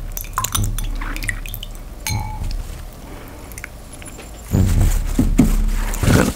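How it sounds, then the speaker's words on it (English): Hands are washed with water before a meal of egusi soup and fufu, giving splashing, dripping and a few glassy clinks, with a louder burst of running water near the end. "let's wash our hand and we are ready to dig in."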